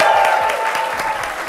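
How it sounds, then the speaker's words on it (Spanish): Audience applause for a guest on a podcast's 100th episode, a brief burst of clapping from a small crowd, loud and close. "Un aplauso."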